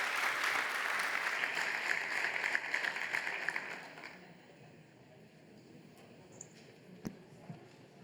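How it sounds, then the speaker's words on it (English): Conference attendees give a panel a round of applause that stays full for about four seconds, then drops off abruptly, leaving a quiet room with a few scattered late claps and small knocks. "Please give them a big round of applause."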